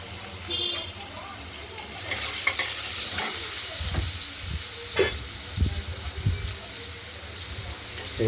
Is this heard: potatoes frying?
yes